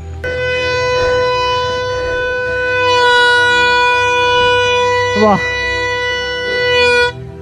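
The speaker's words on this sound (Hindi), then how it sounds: "ये तो शंख की ध्वनि है आपकी।" At the Bhadraj temple fair, a conch shell is blown in one long, loud, steady, brassy tone held for about seven seconds, with a brief exclaiming voice and crowd murmur underneath.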